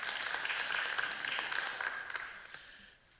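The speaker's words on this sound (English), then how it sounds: "He deserves a round of applause." A church congregation gives a round of applause for the church treasurer at a Lutheran congregational meeting, fairly faint, soft scattered clapping that fades out near the end.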